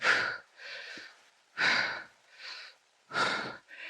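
Heavy rhythmic breathing during a core workout: three loud, breathy exhalations alternate with softer inhalations in a steady cycle, close to the microphone and alone without talk.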